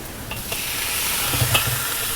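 Meat stir-fries in a hot wok with light soy sauce, Chinese wine and sugar, a steady close sizzle with scraping stirs throughout.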